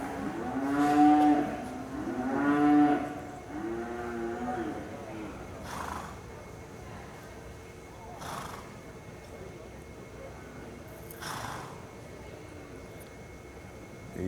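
A cow bellows in two long, drawn-out moos near the start during a cutting horse run in an arena, followed by softer bursts of sound and a steady background murmur, with a commentator talking throughout.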